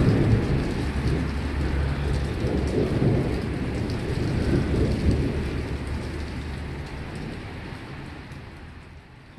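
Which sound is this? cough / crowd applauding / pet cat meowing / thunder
thunder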